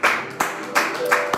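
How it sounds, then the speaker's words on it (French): A church congregation claps in acclamation, steady rhythmic claps about three per second, with voices over them. "Offrons une offrande d'acclamation pour le Seigneur"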